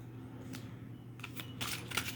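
Oracle cards shuffled by hand in short riffling bursts, quiet and close over a steady low hum, growing busier and denser toward the end.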